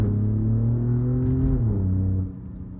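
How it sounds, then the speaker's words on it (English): Alfa Romeo Giulia QV engine revving up as it shifts, a steady loud harmonic drone that drops in pitch at the gearchange, followed by a faint pop and then quieter running. "I love that little, almost like that backfire when you shift"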